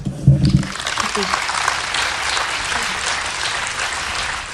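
Sustained applause from an audience after a reading fills the space following a brief voice, a steady wash of clapping that holds evenly throughout.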